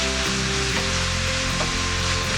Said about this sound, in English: We're going to get this brown until you can see some pink